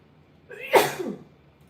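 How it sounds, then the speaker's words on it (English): A single sharp sneeze bursts out after a brief quiet intake, loud and close, with a faint noise at the very end. "I keep sneezing."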